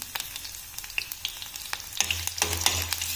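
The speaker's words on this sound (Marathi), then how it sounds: "मोहरी झालेली आहे आपली। मिरची टाकते मी," Green chillies drop into hot oil where mustard seeds have already spluttered, a bright close sizzle full of tiny pops and crackles that swells louder near the end, with no one speaking.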